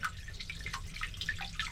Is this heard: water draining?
yes